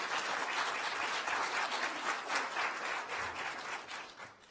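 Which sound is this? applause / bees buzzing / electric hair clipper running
applause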